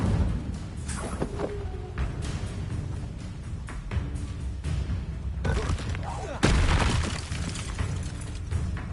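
Incendio fire spell from the video game Hogwarts Legacy: a run of loud, close bursts and booming blasts, some clustered rapidly and one especially strong hit near the end, over a continuous rumbling game backdrop.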